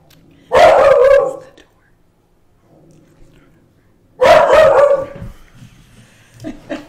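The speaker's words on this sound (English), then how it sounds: "That's a great dog." A dog inside a home lets out two loud bursts of barking a few seconds apart, with a quiet gap between and faint scattered sounds after.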